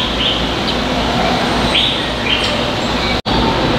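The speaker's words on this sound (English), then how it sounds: "We got birds of the tropics." Tropical birds in a zoo aviary give several short chirps and whistles above a loud, constant wash of background noise, with calls scattered through the stretch and no clear speech.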